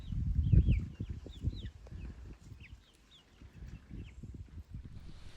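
Chickens clucking near a ranch chicken coop: scattered short, rising and falling clucks and chirpy calls, fairly close, over low thumping and rustling noise that fades after the first second.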